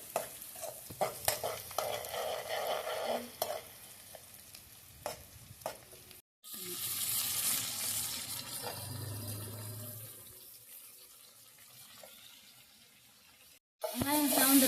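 Sliced big onions frying in a pan over a wood-fired stove, a steady sizzle with scraping and stirring clatter, broken by a brief pause, with some background talk.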